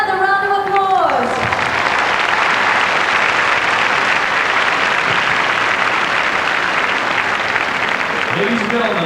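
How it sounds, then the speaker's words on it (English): A large stadium crowd at the 1993 SEA Games opening ceremony in Singapore gives school performers a loud, continuous round of applause, broad clapping rolling on steadily after a man's announcement fades at the start. "would you please give them another round of applause?"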